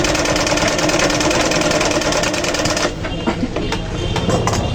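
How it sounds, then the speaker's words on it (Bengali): A sewing machine with a thread-breaking problem stitches with a loud, close, continuous mechanical whir and rapid ticking. The sound eases slightly and turns a little more uneven toward the end. "ফিট নামাই দিলাম, এখন আমি সেলাই করব।"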